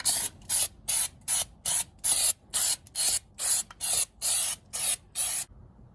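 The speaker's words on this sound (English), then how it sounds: "Take some heavy duty rubberized undercoating, give it a couple shots." Heavy duty rubberized undercoating sprays from an aerosol can into the wheel wells of a Tacoma pickup truck in about a dozen short, loud, evenly spaced hissing bursts, close up, with no voices.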